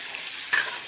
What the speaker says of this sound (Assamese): প্ৰথমতে মই মাংসখিনি ভাজি আছোঁ। এইদৰে মই লৰাই লৰাই ভাজি থাকিম